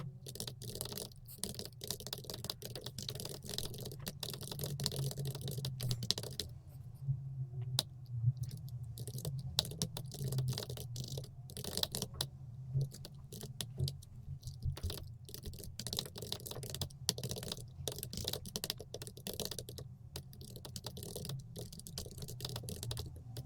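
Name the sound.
typing free text on a computer keyboard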